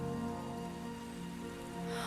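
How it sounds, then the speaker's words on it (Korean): Steady rain from an audio drama, a dense continuous wash of falling drops and patter that stays even throughout, heard alone with no voices. "세차게 불던 바람은 비가 되었다."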